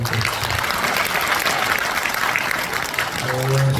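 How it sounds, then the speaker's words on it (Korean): An indoor audience claps at a cultural concert held in Gangneung's Dano festival performance hall, a dense, loud round of applause lasting several seconds before a voice begins speaking. "박수"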